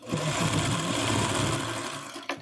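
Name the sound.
sewing machine sewing the final row of a quilt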